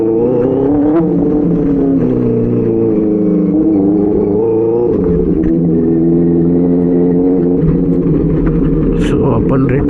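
A loud Benelli 600i motorcycle engine runs steadily close by, its low rumbling drone holding throughout with small shifts in pitch and a brief higher rise near the end.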